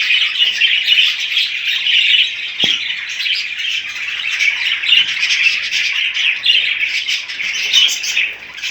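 A group of pet budgerigars bred at home chirp and squawk continuously, a busy, loud, close chatter of overlapping calls with one brief sharp click partway through.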